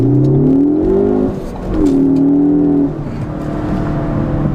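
A Ford Focus ST in normal driving mode accelerates hard, its engine note climbing in pitch before a brief dip at a shift and a second rising pull, loud and close from inside the car.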